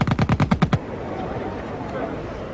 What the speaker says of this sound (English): Machine guns could now fire 600 rounds a minute